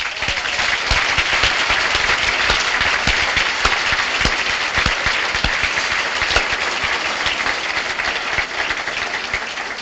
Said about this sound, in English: showing your appreciation by a hearty clap of the hands